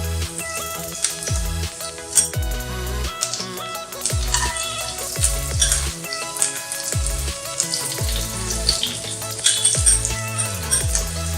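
Garlic frying in hot ghee for Indian-style garlic chicken, a steady close sizzle and crackle running throughout with no talk.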